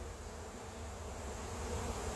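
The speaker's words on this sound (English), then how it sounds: "Okay, I got a bee trying to sting my hand here." Honey bees drone steadily as a hive is opened while honey is pulled and queens are checked, the dense, even buzz filling the whole stretch with no talking.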